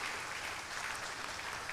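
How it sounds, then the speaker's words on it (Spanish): An audience applauds a panelist, a former Ecuadorian public administration undersecretary, at a public sector directors' meeting, with dense, steady clapping throughout, loud and continuous. "Por favor, aplausos también para él."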